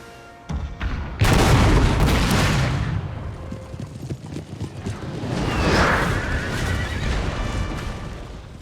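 Cannon fire booms in a Napoleon Total War battle: a heavy blast opens, followed by continuous rumbling battle noise, horses whinnying and scattered distant shots.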